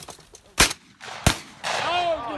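Two sharp gunshots crack a little over half a second apart, fairly close but not very loud, followed by a rising whine and some faint background chatter.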